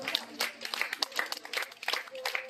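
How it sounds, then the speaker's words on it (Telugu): An audience at a village social service logo unveiling claps in a short burst of scattered, quick applause, moderately near and fairly quiet. "ఒక్కసారి గట్టిగా చప్పట్లు పెట్టి లోగో ఆవిష్కరణకు సహకరించాలని కోరుతున్నాం"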